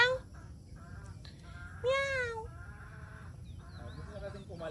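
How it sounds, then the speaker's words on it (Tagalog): A cat gives a few soft, drawn-out meows, one rising cry standing out midway, over a low background hum with quiet human voices nearby. "Mahina yung meow."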